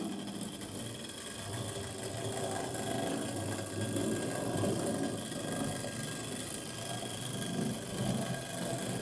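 Hornby Dublo model train running on a feedback controller, a steady faint motor hum and rolling whir with light rattling, continuous and even throughout.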